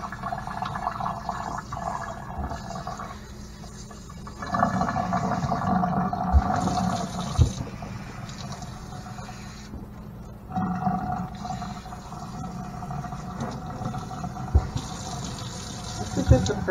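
A garden hose sprays water over dreadlocks during a first rinse after washing, a steady close splashing and gushing that swells and fades as the stream moves, with faint voices now and then.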